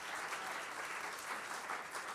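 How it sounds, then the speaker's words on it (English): A theatre audience applauds in tribute to the late stage performer Tom Jones, a steady, fairly faint wash of clapping that holds evenly for the whole stretch. "give him a round of applause"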